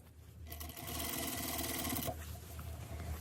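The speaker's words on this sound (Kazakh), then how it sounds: "Достар, тура осы жерден бұрынғы тігісінің орнынан тігіп шығамыз" A sewing machine stitches a trouser zipper along the line of the old seam, one loud, steady whirring run of about a second and a half that then stops, leaving quieter handling noise.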